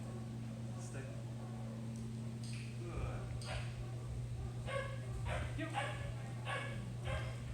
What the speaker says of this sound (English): We have other dogs in here